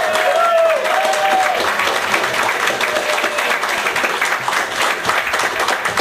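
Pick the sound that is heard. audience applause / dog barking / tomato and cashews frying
audience applause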